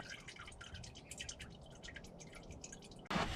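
Engine oil drains from a 2008 Toyota Sequoia as a quiet, continuous stream of dripping and trickling, close and faint, ending in a sudden louder burst of noise.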